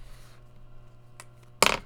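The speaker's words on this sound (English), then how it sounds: "throwing the pens all over the place" A brief clatter of pens hitting a surface, a sharp burst of rattling taps near the end, preceded by a faint click.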